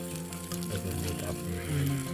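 Fish frying in oil on a heated stone outdoors, a continuous soft sizzle with a steady low hum beneath, moderately faint and unbroken.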